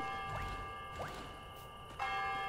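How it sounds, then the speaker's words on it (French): A village bell rings in the video game Lonesome Village, sounding a few soft, separate chimes at moderate distance over a quiet ambient background, with a brighter strike near the end. "La cloche a sonné."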